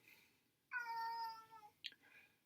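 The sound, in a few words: cat meowing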